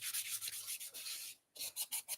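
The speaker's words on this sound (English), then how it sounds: "just sanding these things down with 400 grit wet sand, getting these caps ready to blast red this weekend" Car caps being wet sanded by hand with 400 grit sandpaper before red paint, a close, steady rhythmic rubbing in strokes that pause briefly and then resume.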